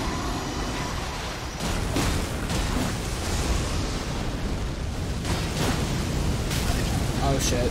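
A fire attack in the video game Elden Ring roars and bursts in dense, continuous waves of blasting, crackling noise that stays loud throughout.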